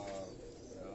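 Domestic pigeons kept on a rooftop loft in Karachi, a soft low cooing heard close and steady through the brief moment.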